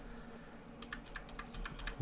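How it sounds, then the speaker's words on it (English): A short burst of computer keyboard key presses, several light clicks in quick succession after a quiet start, close and soft. "just click the print screen on your keyboard."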